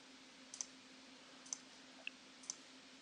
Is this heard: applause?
no